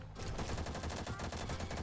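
Rapid automatic gunfire in the Roblox shooter Bad Business, with a Vector-style weapon setup: a dense, continuous rattle of shots running through the whole clip at a fairly even volume.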